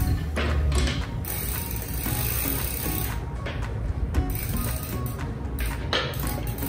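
A wrench ratchets quickly and steadily while a steel bicycle pedal is tightened into an aluminum crank on a cruiser bike, close up with no talking.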